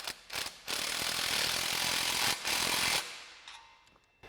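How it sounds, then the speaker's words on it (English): Ratchet with a 15mm socket tightening an exhaust clamp on a Jeep Gladiator JT, quick close clicking in short runs, one long stretch and then fading strokes. "Then you can take your 15mm socket and tighten up the clamp."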